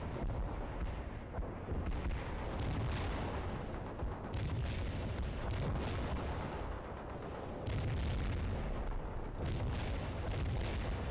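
Artillery shelling from a fire mission in the World in Conflict video game: a steady roll of distant booms and blasts that rumble continuously, swelling in a few heavier waves.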